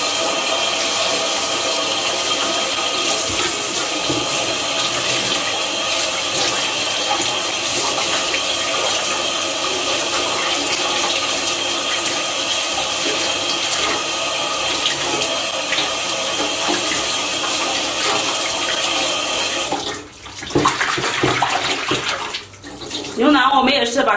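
Water runs steadily and loudly from a tap while beef brisket and tendon are rinsed of blood for a beef offal hotpot, then it splashes and breaks up near the end.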